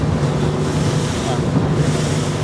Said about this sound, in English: God, they're quiet, those engines.